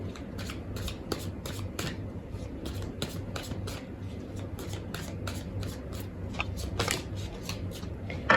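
Oracle cards are shuffled by hand at close range, a steady run of rapid riffling flicks that goes on without a break and without talk.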